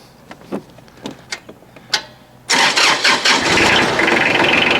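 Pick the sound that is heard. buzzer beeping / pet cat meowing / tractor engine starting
tractor engine starting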